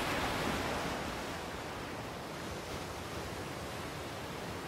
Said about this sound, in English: Some really big waves pushing in through the Knysna heads.